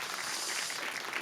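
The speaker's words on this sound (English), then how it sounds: "You can clap." An audience claps at an evening IT leadership panel event, a dense, steady wash of hand claps filling the whole brief moment at a moderate level.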